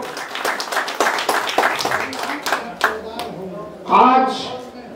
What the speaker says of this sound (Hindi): मैं चाहूंगा कि जोरदार तालियों से इनका